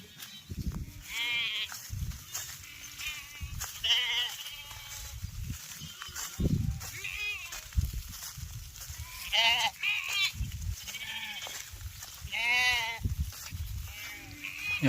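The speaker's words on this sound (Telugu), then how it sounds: "అక్కడ నుంచి వస్తానే మొత్తం అన్ని గొర్రెలు" A flock of village sheep bleats over and over, with many overlapping calls close by, a busy shuffling background and faint talk in between.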